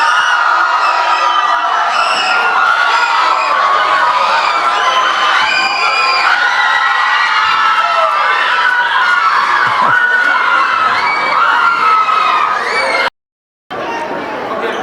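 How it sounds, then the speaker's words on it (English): A large crowd at an eighth-grade graduation ceremony erupts in loud, sustained cheering, whoops and shouting, a dense wall of excited voices that stays strong for the whole stretch with a brief dropout near the end. "Give them a big applause."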